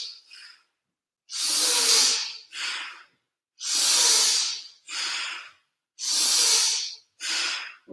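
Deep, forceful breaths during a kundalini breathing exercise, with long hissing inhales and exhales alternating in a steady rhythm, close and loud, with no talking.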